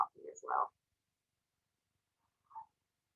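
A pet cat making short chirpy vocalizations, a cluster of brief murmured meows at the start, then silence and one more small mew, close and quiet with no talk.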